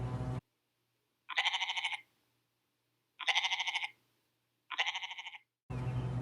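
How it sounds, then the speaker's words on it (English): A goat gives three separate wavering bleats in a row, each about half a second long, with short silent gaps between them. "they make a sound that's called a bleat"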